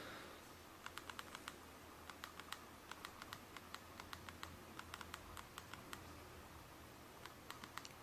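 Quick, light taps come from typing a short message on a BlackBerry Storm 2 touchscreen phone, spaced in irregular little clusters, faint and close against a quiet background hum.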